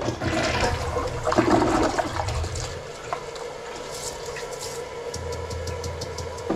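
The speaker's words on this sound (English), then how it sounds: "Give it another flush." A toilet flushes with a continuous rush and gurgle of water, strongest at the start and then settling into a steady swirling drain and refill.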